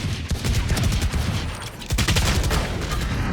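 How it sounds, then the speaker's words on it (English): Sustained automatic gunfire in the shooter game Valorant, loud and dense rapid bursts with no pauses, as shots go wide of the target. "you start shooting, and then something like this happens"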